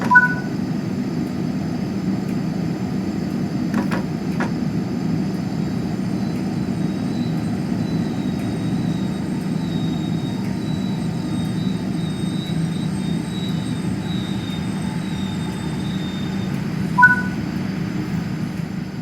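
A train in Train Sim World 5 slows under its train brake, heard as a steady low rumble with a thin high brake squeal running along above it and a couple of brief clicks from the cab controls.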